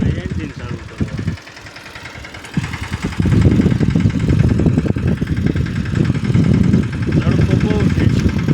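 A small engine runs on a mini block-making machine with two motors, a steady mid-pitched idle that gets louder and rougher after a few seconds, with a voice talking over it.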